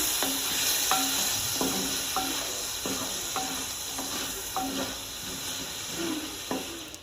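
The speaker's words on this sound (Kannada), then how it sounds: "ಟೊಮೆಟೊನ ಹಾಕಿ ಚೆನ್ನಾಗಿ ಮಿಕ್ಸ್ ಮಾಡಬೇಕು" A spoon stirs tomato into a frying mixture for okra sambar, with regular scraping strokes against the pan over a constant sizzle and a hissing background, with no voices.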